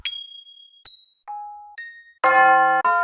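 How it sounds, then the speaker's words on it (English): A run of bright bell samples from a trap music sample pack, about six separate struck tones of different pitches, each ringing and decaying before the next, the last two fuller and richer, with no voices. "Next, we listen to the bell samples that are included."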